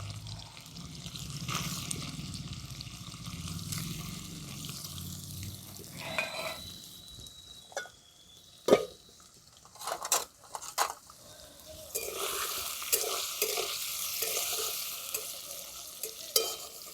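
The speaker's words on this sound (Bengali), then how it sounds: "এখন পনিরগুলো হালকা লাল লাল করে ভেজে নিয়েছি" Paneer frying in hot oil in a pan: a soft, fairly quiet sizzle runs throughout, broken by sharp clinks and scraping stirs, with louder crackling spitting toward the end and no voices.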